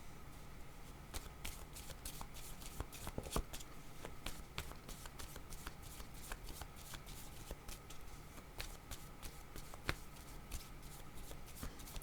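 Tarot cards being shuffled continuously by hand, a steady run of close, crisp riffling flutters and soft card slaps with no talk.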